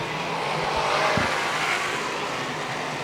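Race cars battle on the Lernerville Speedway dirt track, their engines a continuous distant roar and drone that swells slightly midway.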